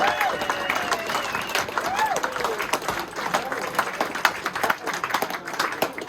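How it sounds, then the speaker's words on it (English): A crowd at a rugby club gathering applauds the Harrogate players: dense, steady clapping with scattered cheers and voices mixed in, held throughout. "let's have another round of applause for the players from Harrogate."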